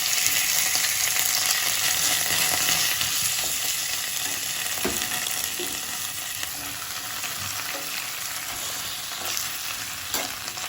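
Fresh spinach (palak) is tossed and sautéed in a hot pan for a dhaba-style garlic palak paneer, giving a loud, steady sizzle with scraping stir strokes throughout and no talking.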